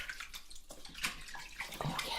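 Water splashing and rinsing in a basin or bath, soft and close, a continuous sloshing wash with small bursts, rinsing away a coarse exfoliating scrub.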